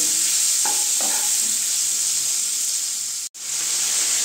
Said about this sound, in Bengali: দিয়ে আমি ফুলকপিগুলো একটু ভালো করে লাল লাল করে ভেজে নেব